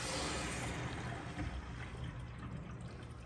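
Water rushing out steadily as the pressure relief lever is pulled open on a tankless water heater, a close, constant hissing gush that gradually eases slightly over a few seconds.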